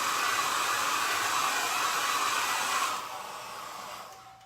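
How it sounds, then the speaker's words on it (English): A hair dryer blows steadily at close range to warm glue on a piece of furniture, a loud, even whoosh that drops to a lower setting near the end, with no talking. "I'm going to use my hair dryer though so that I can release some of this glue"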